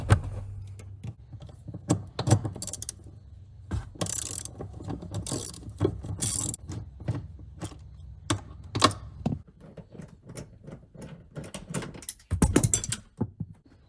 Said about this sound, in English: I love me a long ratchet.